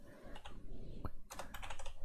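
Brief bursts of typing on a computer keyboard, a few close, light keystrokes followed by a quicker cluster of clicks, fairly quiet and without speech.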